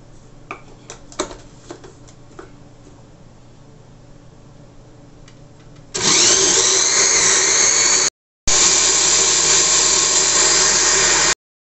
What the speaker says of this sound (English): because my grinder is small, so as it blends out, I'll add the rest of the sugar